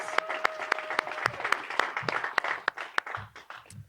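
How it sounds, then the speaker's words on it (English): Audience applause at a live taping at Pace University's downtown campus, a dense wash of clapping with sharp individual claps cutting through close by, continuous throughout. "Let's give them a round of applause."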